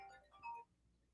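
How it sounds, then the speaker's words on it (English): A phone ringtone plays faintly for about half a second, a few bright melodic tones that fade out quickly, with no one speaking. "I think that's a phone call from the cyclery"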